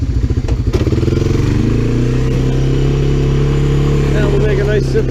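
A Honda Fourtrax 300 ATV revs hard with its wheels spinning as it pushes a plow into snow, a loud, steady, close engine drone that rises briefly in pitch and holds.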